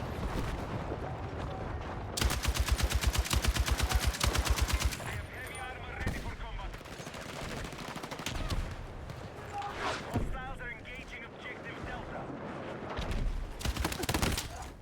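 Rapid bursts of automatic LMG gunfire in Battlefield 6, a long sustained volley followed by scattered shots and further bursts, with voices talking between them.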